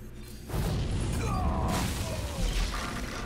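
Flame Strike spell in the Hearthstone card game erupts as a roaring fiery whoosh with crackling, shattering texture, loud and sustained for a few seconds with no talk over it.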